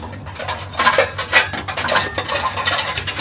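Dishes, pots and utensils clatter and clink near the sink of a damaged home kitchen in the early evening, with a steady run of sharp metallic knocks and scrapes and no talk.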